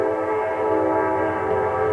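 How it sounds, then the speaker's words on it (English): A train passes close by Barrel Run Campground in Rootstown, Ohio, with a steady, loud rumble of rail cars and a sustained horn tone running through the whole stretch, no talk. "It's time for another train coming at us."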